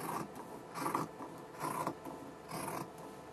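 Scissors cut through shirt dress fabric for a sleeve armhole in a few short, close rasping snips separated by brief pauses.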